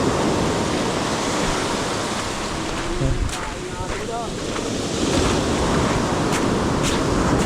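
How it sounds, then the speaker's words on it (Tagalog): Big ocean waves crash and roar against a rocky shore in a loud, continuous wash of surf with wind buffeting the microphone, rising again toward the end while a faint voice calls out briefly. "Lalaki ng alon mga idol."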